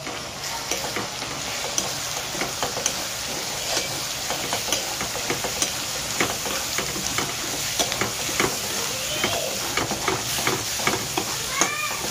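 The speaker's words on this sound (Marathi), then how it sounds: "थोडासा हळद टाकणार आहे तेलामध्ये" Turmeric and chili powder fry in hot oil for a paneer mushroom masala, a continuous close sizzle punctuated by regular scraping clicks of stirring throughout.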